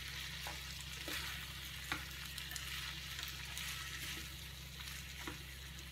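Whole wheat pasta with vegetables cooks and is stirred in a pan, giving a soft, steady sizzle with light scraping taps over a constant low hum, no voices.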